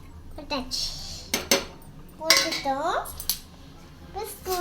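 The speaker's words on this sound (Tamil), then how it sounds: "போட்டு நல்லா கலந்து விட்டுக்கலாம்" Rosemary, fenugreek seeds and cloves stirred into two glasses of water in a metal pot, with a spoon clinking and scraping against the sides in uneven bursts, close by, while a voice talks faintly in the background.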